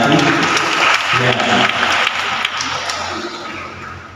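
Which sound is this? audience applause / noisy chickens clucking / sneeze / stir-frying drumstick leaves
audience applause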